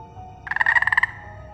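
A toad croaks once in a rapid burst of about ten pulsed clicks lasting half a second, loud and close against a quiet background.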